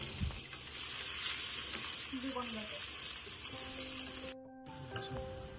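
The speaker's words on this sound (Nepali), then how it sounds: "म यहाँ पहिला प्याजलाई भुट्छु अनि एकदम ब्राउन बनाएर" Onions sizzle and crackle steadily in hot oil as they fry until brown, with occasional stirring scrapes and a brief beep near the end.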